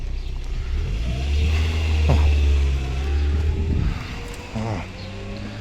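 A passing car rumbles loudly and close, its low engine drone swelling over several seconds and then fading, while a man briefly exclaims near the end.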